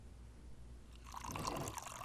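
Coffee is poured into a cup in a kiosk setting, a soft liquid stream that begins halfway through and continues quietly and closely to the end.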